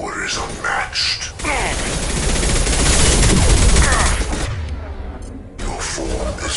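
Heavy high-impact shots fired in Mass Effect 2 combat, a sustained loud barrage of gunfire and blasts building to a roaring peak, with game voices speaking around it.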